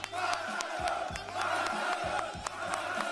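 A crowd cheers, whoops and shouts at a Red Bull rap battle regional final in Concepción, a steady roar with rhythmic thumping pulses beneath it.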